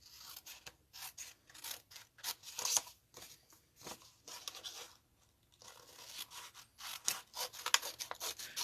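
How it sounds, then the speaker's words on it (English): Scissors trimming excess paper from a handmade card: a quick run of crisp snips and rustles close up, with brief pauses between cuts and no talking. "Trim that extra paper off."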